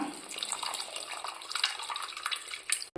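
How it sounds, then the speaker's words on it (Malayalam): Tamarind water is poured into a pan of snakehead fish curry with chilli and coconut milk, making a steady splashing gush that runs for about three seconds, then stops abruptly. "ഇനി നമുക്ക് പുളിവെള്ളം ഒഴിച്ചു കൊടുക്കാം"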